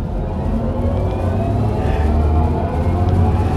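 Inside a Mini Aceman SE electric crossover on a test drive, the artificial driving sound plays as a steady low synthetic hum with a faint rising whir under road noise, continuous and close, with no talking.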